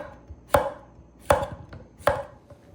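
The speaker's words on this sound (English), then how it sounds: "I need to cut this zucchini into roughly 1/4-inch slices." A knife cuts through zucchini onto a cutting board in three crisp, evenly spaced chops, each sharp strike followed by a short softer tap, close and clear with no talking.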